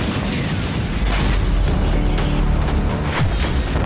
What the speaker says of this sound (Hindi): लेबनान के शेमा गांव में इजराइल ने एक के बाद एक कई धमाके किए।